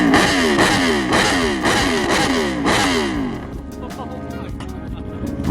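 A loud motorcycle with a tuned exhaust revs hard in repeated climbing bursts, close and dominant, then settles to a rumbling idle, with people talking nearby.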